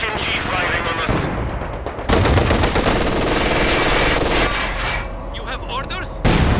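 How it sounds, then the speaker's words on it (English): Heavy machine gun fire in a video game, loud rapid bursts of shots with short gaps between them, close and harsh, while voices talk. "HMG firing on us."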